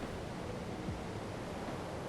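A waterfall in the video game ARK: Survival Evolved gives a steady, broad rushing roar, constant and fairly quiet with no voices over it.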